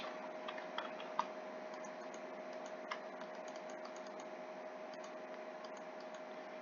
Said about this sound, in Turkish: Bu arada klavyemden çok ses geliyor farkındayım susmuyor.